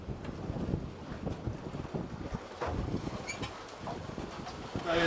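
Strong wind buffets the microphone on a boat at Lakes Entrance while fishing for swordfish, a steady rough rumble with gusts swelling and dropping throughout.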